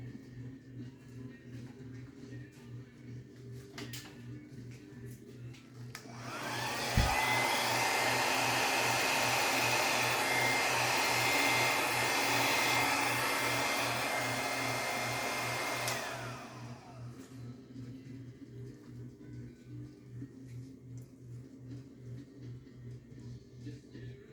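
A hair dryer blows on pink Dutch pour paint, switching on abruptly, running loud and steady for about nine seconds, then cutting off against a quiet, humming room.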